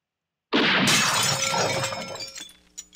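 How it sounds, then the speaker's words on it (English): A glass bottle shatters loudly in a sudden crash in the video game The Kitchen's Sink, followed by shards tinkling and scattering as the sound fades out over a couple of seconds. "this was like a glass bottle"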